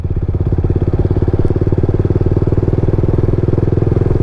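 A motorcycle engine fitted with GTT technology runs loud and close, with a steady rapid pulsing throb and no break in the sound. No voices are heard.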